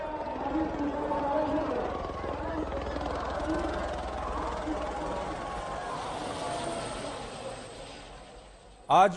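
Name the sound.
helicopter showering flowers over pilgrims at Mahakumbh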